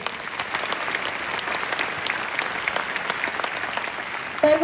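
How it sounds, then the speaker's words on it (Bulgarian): Sustained audience applause fills a concert hall in a Bulgarian touring stage show, steady dense clapping throughout with a rising swell of cheers at the very end. "Аплодисменти!"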